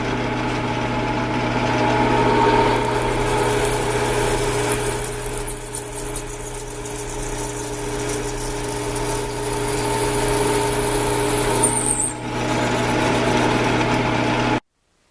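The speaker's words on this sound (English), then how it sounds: "the first thing I'm going to do is go in with a 3/4 inch drill and drill in 750" A 3/4 inch drill bores into metal on a milling machine, a steady droning machine hum with constant tonal whine and mild fluctuations, continuous throughout before stopping abruptly.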